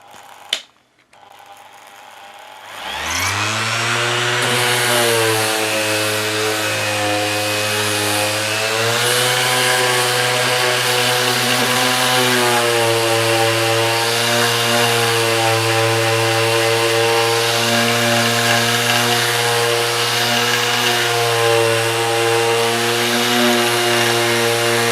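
A Makita BO5041 random orbit sander with a 120 grit disc clicks, then spins up and sands with a loud, steady, close-up whine and a rough grinding texture that continues without pause.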